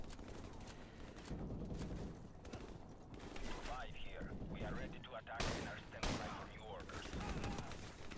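Rapid bursts of gunfire and explosions crackle through a campaign battle in Call of Duty Modern Warfare Remastered, layered with game effects and a player talking over the action at moderate loudness.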